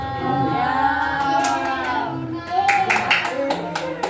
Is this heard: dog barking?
no